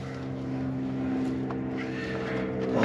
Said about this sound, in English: As you can hear airplanes going by.